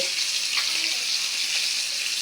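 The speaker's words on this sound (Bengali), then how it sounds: "মাছগুলা ভাজা হোক মাছগুলা ভাজা হয়ে গিয়েছে" Steady hissing sizzle of fish frying in hot oil in a pan, close and continuous, with faint crackles throughout.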